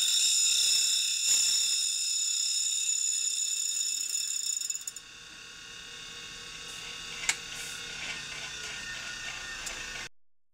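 Two grinding wheels meet on a CUTTERMASTER Professional tool grinder, a steady mechanical whine with high tonal ringing that drops after a few seconds to a softer grinding hum, with one sharp click near the end.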